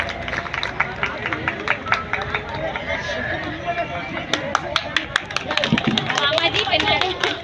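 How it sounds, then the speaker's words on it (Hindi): An audience claps at a school sports competition prize ceremony, a steady patter of applause from a crowd mixed with background chatter and a voice over a loudspeaker. "तालियां बजाते रहे।"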